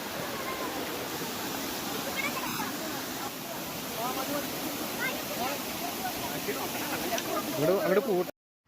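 A forest waterfall with strong flow over steep rocks, a constant broad roar of rushing water heard nearby, with a voice talking faintly underneath and a few louder knocks toward the end.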